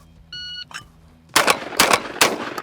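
Shotgun blasts from a Browning A5 fired rapidly at clay targets, three loud sharp shots in quick succession outdoors after a short electronic beep.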